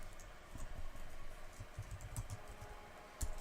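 Computer keyboard being typed on, close and quiet: irregular clusters of soft key clicks with brief gaps and a slightly louder tap near the end.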